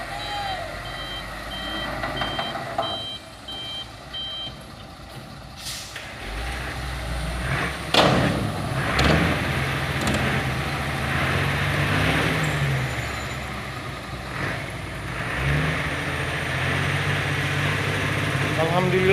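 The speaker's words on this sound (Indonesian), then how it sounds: "langsung di puter satu unit dump truknya untuk menarik satu Hino Ranger" A dump truck reverses with steady, repeated reversing beeps over its idling diesel engine, with air brake hisses, as it turns to tow a stranded Hino Ranger truck on a steep hill road. Voices talk in the background.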